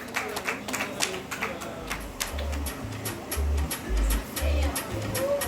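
An audience claps for a senior women's handball team at a club honours event, a steady patter of many hands with a low thumping rumble underneath.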